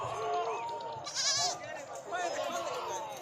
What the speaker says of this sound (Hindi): बकरा मंडी, काफ़ी बकरे भी आ चुके हैं